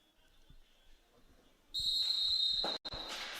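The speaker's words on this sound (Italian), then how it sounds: "pronti per il fischio del direttore di gara, il signor Luna." A referee's whistle at a Serie A2 roller hockey match between Hockey Trissino and Hockey Pico sounds loud and sustained, a single long shrill blast cutting in over quiet arena ambience with a few faint ball taps.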